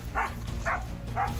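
Hunting dogs barking during a hunt, three short, evenly spaced barks at a moderate distance over a low rumbling background.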